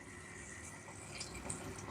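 A little water poured into a cooking pan while making a simple home lunch, heard as a soft, faint, steady splashing trickle with no one talking.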